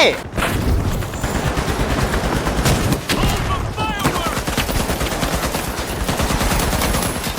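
Dense automatic gunfire and blasts from the online shooter game The Finals, a loud continuous barrage of rapid shots with bursts and explosions throughout, with excited voices shouting over it.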